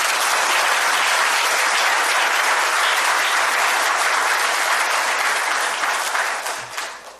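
Loud, sustained applause from an audience filling a hall at a film appreciation ceremony, a dense wash of clapping that holds steady before fading toward the end.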